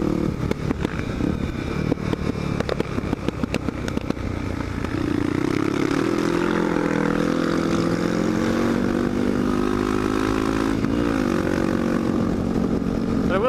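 A supermoto motorcycle running lean with an FMF PowerCore TI pipe and Power Bomb header idles and revs steadily, its exhaust crackling and popping in irregular bursts, close and loud.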